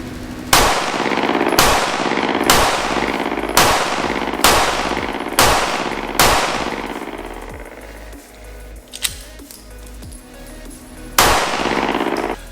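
Semi-automatic GST9 pistol built on an 80% Arms grip frame, fired in a run of loud, sharp close shots at a steady, fairly quick pace, then a pause and one more report.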